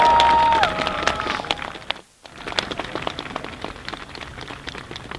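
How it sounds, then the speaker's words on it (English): A crowd claps at an outdoor vigil in Union Square, New York City. The scattered, crisp applause has a brief pause partway through and continues thinly afterward. "can we give her another round of applause?"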